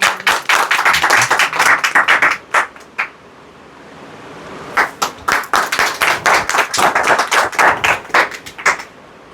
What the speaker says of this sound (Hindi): तो जोरदार तालियां परमेश्वर को।